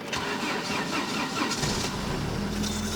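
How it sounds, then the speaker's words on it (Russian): Cold start of an Opel Astra F with a C18NZ engine whose hydraulic lifters knock: a steady, close engine roar that settles into a low idle hum, with no voices. "Холодный запуск двигателя до замены гидрокомпенсаторов."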